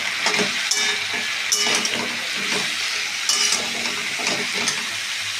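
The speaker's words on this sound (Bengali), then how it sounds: "এবার পটল, ঝিঙে, কুমড়ো, কলমি শাকের ডাঁটা, পটল সব দিয়ে দেবো, একবারে দিয়ে দেবো, দিয়ে ভালো করে ভেজে নেব" Pointed gourd, ridge gourd, pumpkin and water spinach stalks frying together in a pan, with a close sizzle and frequent stirring scrapes, plus clinks of utensil against metal.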